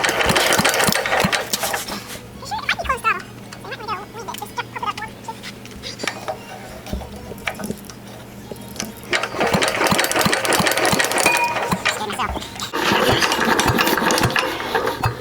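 A small engine on an ice cream machine runs loudly and close, a rough buzzing drone with surges and fluctuations over the whole stretch, while people talk nearby.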